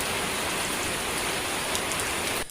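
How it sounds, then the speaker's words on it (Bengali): Heavy rain pours steadily at night over a farm, a dense, even hiss of drops hitting surfaces that holds the whole time before cutting off abruptly at the end. "বৃষ্টি শুরু হয়েছে।"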